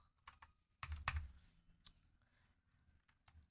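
Someone types text into an Excel field on a computer keyboard, producing a short, quiet series of close key clicks with a few heavier presses around the middle.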